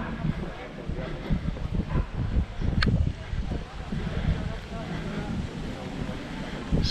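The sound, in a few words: wind outdoors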